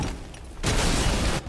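A loud explosion goes off in the video game Resident Evil Village, a sudden broad roaring blast that fills the space for nearly a second after a quieter rumble, then cuts back down, with no talking.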